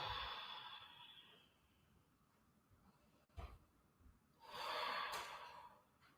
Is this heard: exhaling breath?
yes